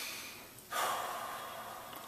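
Heavy breathing during an ab workout: a brief quiet lull, then a sudden, sustained rush of breath, close and steady, that continues to the end with no talking.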